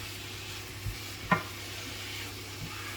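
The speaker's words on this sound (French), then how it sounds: "on n'hésite pas à remuer nos oignons" Chopped onions and a lamb leg bone sizzle steadily in a pan, a soft continuous frying hiss with a single utensil knock as they are stirred, fairly quiet and with no talk.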